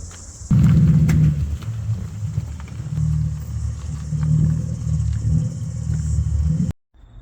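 A 1992 Toyota Soarer fitted with very loud mufflers passing on the road, a deep, rumbling exhaust drone that swells suddenly and holds loud and close before cutting off.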